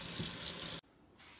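A kitchen tap runs steadily to measure water for rice, a full, rushing stream that cuts off abruptly, followed by a brief quiet and faint room noise.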